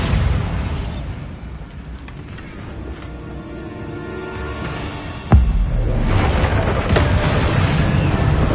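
A Bombarda spell detonates in the Hogwarts Legacy video game: one sudden loud blast midway, followed by a sustained rumbling roar that keeps going to the end.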